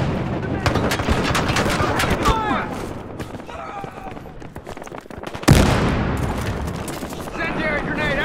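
Heavy gunfire in the video game Battlefield Hardline: loud, dense bursts of automatic fire and shots, with a sharp blast near the middle and continuous rattling after it. Shouted voices carry on over the shooting.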